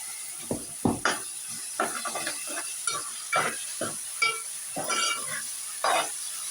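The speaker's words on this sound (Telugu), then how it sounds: "ఉల్లిగడ్డలు వేగినాయి అల్లం వేస్తాం ఒక స్పూన్ అల్లం" Onions and ginger fry in a pan with a low sizzle, broken by a string of short scraping stirs and clinks of a utensil against the pan, close and moderately loud.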